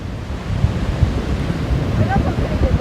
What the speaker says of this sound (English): We got some pretty good waves.